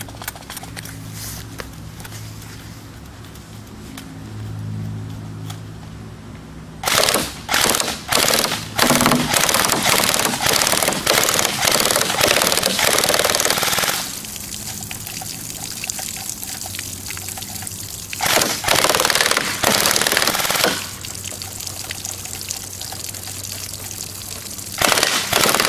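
KM4A1 airsoft gun firing bursts of rounds into milk jugs, sharp rapid clattering volleys in several long strings separated by quieter pauses, close and loud.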